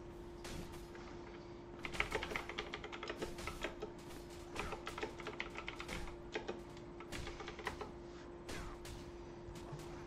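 Rapid keyboard typing while entering a chat message in the MMORPG Night Crows, with bursts of quick keystrokes and short pauses, close and fairly quiet over a steady electrical hum.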